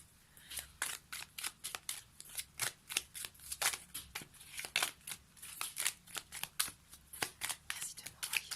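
Tarot cards are shuffled close to the microphone, producing a long series of crisp, rhythmic riffling bursts that repeat at a steady pace, with no talking over them.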